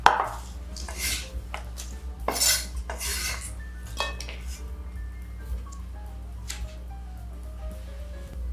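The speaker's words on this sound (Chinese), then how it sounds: "然后因为叶柄的部分比较厚， 所以我们要这样子切。" A knife works through thick mustard green stalks on a cutting board, making a series of irregular sharp clacks and taps, some louder knocks near the start, with quieter cuts trailing off and no voices.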